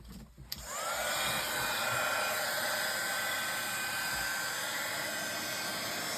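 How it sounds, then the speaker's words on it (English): A heat gun clicks on and settles into a steady loud blowing whir with a faint whine while heating pearl embossing powder for a stained glass effect, close and continuous with no talk. "Where's my heat gun gone?"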